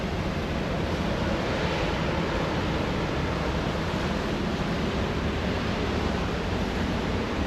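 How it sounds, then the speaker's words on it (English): Water thunders out of the dam outlet pipes at Lake Argyle in Western Australia, a loud, steady, broadband roar that holds unchanged throughout, with no voices heard. "the force of this water coming out of the pipes, amazing"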